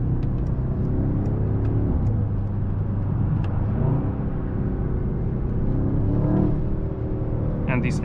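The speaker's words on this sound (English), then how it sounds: "But also you can hear the engine for sure." The new V8 engine of a 2024 Mercedes-AMG S63 sedan drones and grunts from inside the cabin during a drive, a steady deep rumble with mild swells of revving throughout.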